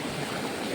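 A strong mountain stream rushes loudly and steadily, a close, broadband wash of flowing water lasting under a second.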